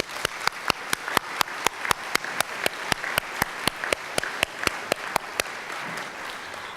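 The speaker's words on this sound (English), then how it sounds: "So can we give them a round of applause?" Staff forum audience clapping at a university gathering, heard as a steady, evenly spaced run of sharp claps at about three per second that carries on for several seconds before easing off.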